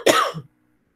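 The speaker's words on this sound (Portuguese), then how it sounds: "estou com um pouco de tosse" A single short, harsh cough shifts into a quick throat clear. Both come from a lecturer in a class on ship structure, the sound is close and fairly loud, and it stops abruptly into silence.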